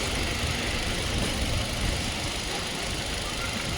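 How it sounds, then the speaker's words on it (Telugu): A 2019 Hyundai Xcent petrol car idles with a steady, even engine hum and hiss that stays constant throughout, close by, with no voices. "ఓకే, బండి అనేది స్టార్టింగ్లో ఉంది."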